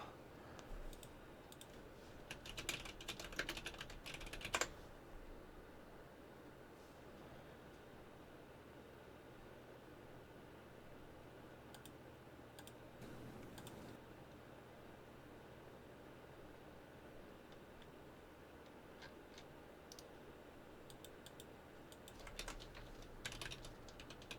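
Faint mechanical keyboard typing with quick clusters of clicks and pauses between them, quiet against a low background hiss.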